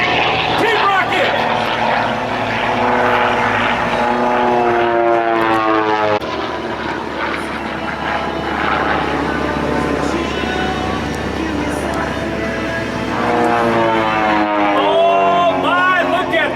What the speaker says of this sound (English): look at the vertical performance of these experimental home-built aircraft. The Harmon Rocket 2, the F-1 rocket